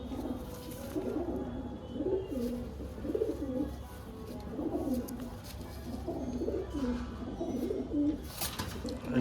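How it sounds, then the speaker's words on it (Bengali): Pigeons coo in repeated low, rolling phrases close by, a steady series of calls over a constant background hum. "ভালো নসলের পায়রা আছে।"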